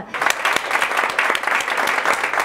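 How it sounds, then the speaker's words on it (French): Warm audience applause for a guest speaker at a talk, close, brisk clapping with distinct individual claps throughout the short burst. "Et je vous prie de vraiment applaudir chaleureusement Madame Laetitia Guinan"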